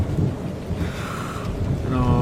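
Rain and snow falling during a mountain climb in Kyrgyzstan: a steady broadband wash of precipitation and wind that fills the whole clip at moderate loudness, with a faint tonal hum creeping in near the end.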